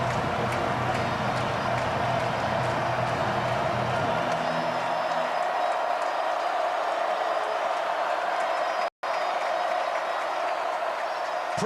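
Crowd noise at a South Carolina vs Clemson college football game in a stadium, a broad sustained roar of fans with a rumbling low end that thins out midway, continuous and loud, briefly cut by a short dropout.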